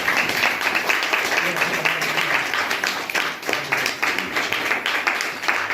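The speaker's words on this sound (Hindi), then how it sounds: "तो सभी साथियों के लिए एक बार जोरदार ताली हो जाए।" A seminar audience at an RCM business celebration breaks into loud, sustained clapping that continues steadily throughout, with voices faintly audible beneath the applause.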